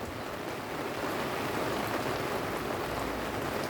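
Steady rain pours down outside a village pub in Little Wenlock near Telford, a dense, even hiss of drops on surfaces running loud and unbroken throughout with no voices.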